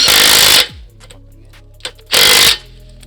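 Two loud, close bursts of a power impact wrench or ratchet tightening a bolt during a car brake rotor and pad change, separated by a short pause and faint clicking.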